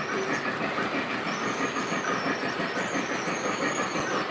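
A Lionel model train runs along its track, a steady, fairly loud rolling rumble with rhythmic clickety-clack and faint wheel squeal, heard alone without talk.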